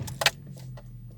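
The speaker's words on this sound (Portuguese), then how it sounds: "vou ligar o carro" Keys jangle close up in a parked car as the driver prepares to start it, a brief bright metallic rattle followed by a faint low hum.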